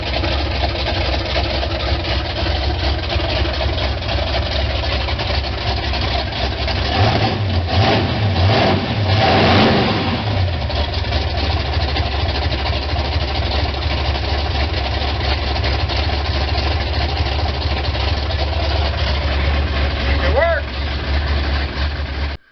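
The engine of a monster truck nicknamed Earthquake idles steadily after a freshly rebuilt, newly tuned carburetor is fitted, with one stronger rev swelling in the middle and people talking over the running motor.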